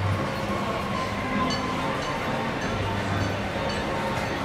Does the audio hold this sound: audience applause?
no